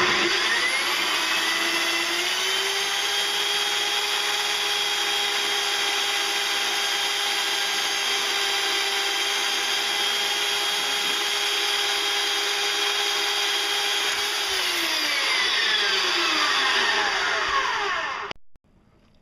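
A Harbor Freight portable band saw cutting half-inch rebar, a loud, steady whining motor hum with a grinding metal cut, running nearly twenty seconds before spinning down abruptly at the end, no talking.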